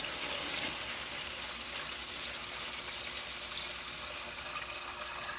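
Tap water pours into a Sterlite plastic container being set up as an aquarium, a steady faint hissing splash of running water continuing evenly throughout.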